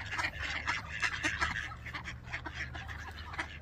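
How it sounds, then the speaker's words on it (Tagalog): Wild ducks on a frozen lake quack in a busy, overlapping chorus, many birds calling close by in rapid, irregular bursts for a few seconds. "Para nakapaligiran akong wild duck"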